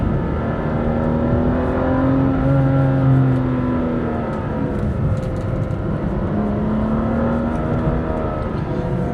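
BMW M2 CS driven hard through a tight, technical section in second gear, the engine accelerating mid-corner: a steady, close drone whose pitch rises, dips and climbs again as the throttle is worked, with no talking.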